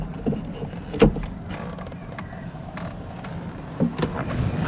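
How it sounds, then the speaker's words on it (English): Rear windows of a BMW M3 E30 being opened, a low mechanical hum with a few short clunks and knocks close by, no talking. "rear windows can be opened"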